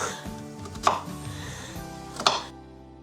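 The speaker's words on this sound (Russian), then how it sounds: "Тем временем я порежу один лук." Two sharp knife chops on a board, well apart, cutting an onion, over a steady background hum that cuts off near the end.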